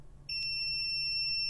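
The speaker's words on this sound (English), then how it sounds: "it's a connection, you can hear the beep." A continuity tester emits a steady, sustained electronic beep after a short quiet lead-in, with one brief click, while probing a connection during repair of a Corvette C3 tachometer.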